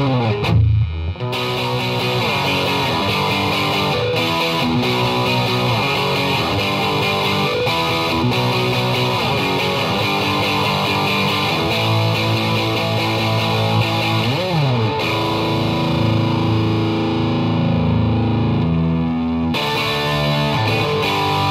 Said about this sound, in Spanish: distorsión